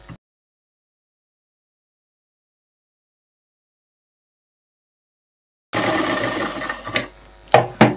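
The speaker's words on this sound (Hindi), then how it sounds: "दूसरी तरफ भी सेम सिलाई इसी तरह से लगाएंगे, इस तरह से पकड़ेंगे दोनों तरफ से और इसकी क्रीज बिठाएंगे और सिलाई लगाएंगे" A sewing machine stitches a seam along straight narrow salwar fabric, starting after a long silence and running in a steady, close whirring burst of about two seconds, followed by a few brief clicks and clatters.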